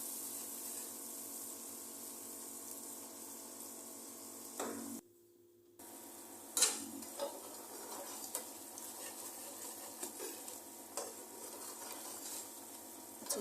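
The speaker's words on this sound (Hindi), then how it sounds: "अच्छी तरह भून लेंगे।" Spices and onion fry quietly in a pan for beef paya with a soft continuous sizzle, a brief drop to near silence, then intermittent stirring clinks and scrapes, faint and without speech.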